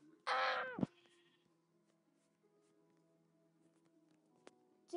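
A single short, shaky bleat like a brown sheep's in Minecraft, bright and close, then near silence with a faint hum and a couple of tiny clicks.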